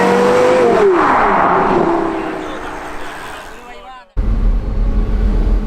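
Porsche Carrera GT supercar engine accelerating, a loud close rising whine that sweeps through the revs and falls away, then cuts to a deep rumbling drone; a voice talks over it.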